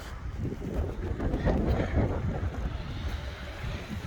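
Gusty wind buffets the microphone with a continuous low, rumbling roar that swells and eases slightly, outdoors during an oil change on a Toyota 4Runner.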